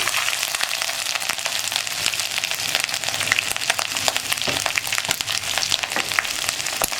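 Crushed ginger and garlic frying in a pan for kadala mutta thoran, producing a dense, loud, continuous sizzle with crackling pops close up, alone without voices.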